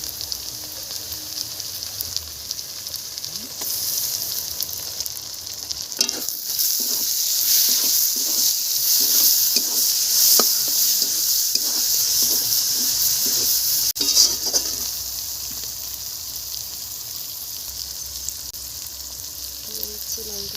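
Tomato hits a pan of frying ground cumin and coriander paste and sizzles loudly and steadily up close. A run of rhythmic stirring scrapes sounds through the middle of the sizzle.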